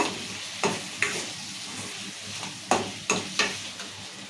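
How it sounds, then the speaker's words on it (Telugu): Chili powder being stirred into taro curry frying in oil, with a steady low sizzle broken by about six sharp scrapes of the spoon against the pan, heard alone and up close. "కారం వేసాం కదా కలుపుకుందాం మంచిగా"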